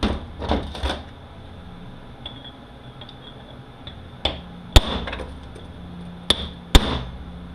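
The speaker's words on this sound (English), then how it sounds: "So we're going to chisel this one off." Hammer and chisel striking a nut to split it off during disassembly of an RE0F10A transmission: several sharp metallic blows, isolated and close, with quieter taps between them.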